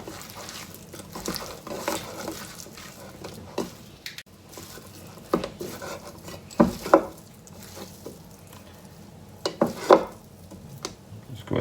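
Slices of beef are being mixed by hand with black pepper and salt, making soft, irregular squelching and rustling at close range with a few sharper clicks and knocks, and no one speaking.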